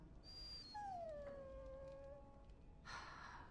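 A dog whines in the Dragon Age video game, one long falling whimper with a high thin whine just before it, heard alone over a low ambient background.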